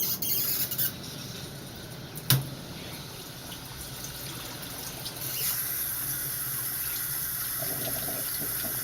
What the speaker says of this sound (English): if you're like me, you gotta wash your hands